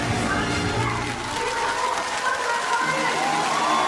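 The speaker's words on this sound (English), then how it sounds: "The crowd is erupting in cheers and applause, waving their flags" A large crowd cheers and applauds after the Red Lions land at the end of an air show display, a dense continuous roar of clapping and shouting from a big audience.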